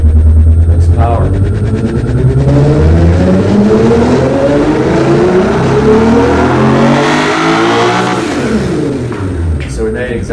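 An engine under an automatic dyno power test revs hard and steadily, climbing in pitch for several seconds and then easing off. The run is loud and close, with voices talking over it.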